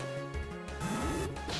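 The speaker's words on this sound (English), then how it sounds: "Why does Pursuit sound like this?" Pursuit attack sound effect from the Pokemon Black video game, a short, crunchy electronic strike with a rising sweep over a dense synthetic wash, lasting under two seconds with no talking.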